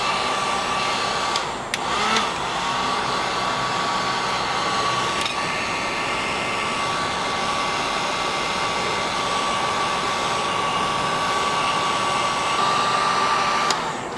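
A heat gun runs on its low setting to soften fender adhesive during a C5 Corvette inner fender and wheelhouse replacement, giving a loud, steady blowing whine close up that lasts the whole stretch without talk.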